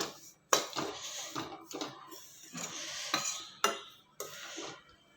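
Chutney powder ingredients being stirred in a metal vessel with a spoon, producing close scraping and clinking strokes with sharp metallic knocks at irregular intervals, loud and without talk.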